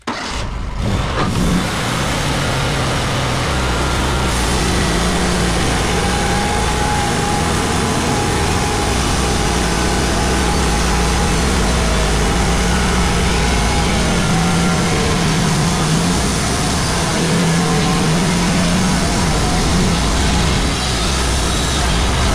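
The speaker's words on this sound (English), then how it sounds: "We're gonna have to take a few skim cuts, get some of them bad cuts off that I made" A WoodMizer LT35 sawmill takes skim cuts through chestnut oak, a steady, loud mechanical drone of engine and blade running continuously throughout without pause.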